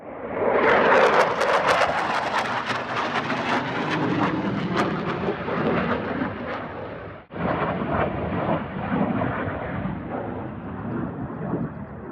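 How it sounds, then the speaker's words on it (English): Eurofighter and F-15 military jets roar overhead in a loud, sustained rumble that swells early and then slowly fades, with a brief dropout midway. "we've got some Eurofighters up there that are teasing us. F-15s have just flown past now."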